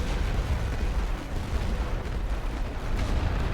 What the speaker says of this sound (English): And this artillery fire isn't super close.